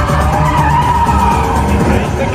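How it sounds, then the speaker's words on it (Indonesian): Cars skid through a street chase in a Fast and Furious film, a loud, continuous tire screech blended with roaring engines that fills the whole two seconds. "Roman dan Han bertugas untuk ugal-ugalan di jalan"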